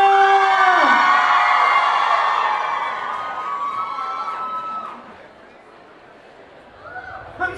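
A large concert crowd roars and cheers for a singer, loud and sustained at first with whoops and screams, then fading to a lower murmur before a brief swell at the end.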